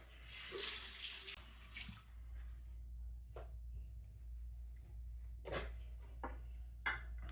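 Tap water runs into a sink for a final rinse during a shave, loud at first and then fading to intermittent splashes and brief gushes, heard close and alone.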